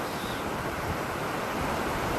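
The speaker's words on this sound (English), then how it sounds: "soothed by the crashing waves" Steady roar of ocean waves crashing on a seashore, a continuous broadband wash with wind-like hiss, close and loud, no voices.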